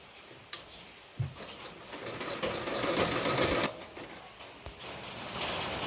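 A sewing machine runs a seam on a princess-cut blouse, starting with a few short bursts and clicks, then a sustained loud whirring stretch, pausing and resuming near the end.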